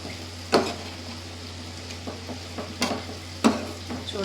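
Chicken fry with chili powder sizzling steadily in a pan, with a few sharp scrapes and clinks of a spoon stirring it at intervals.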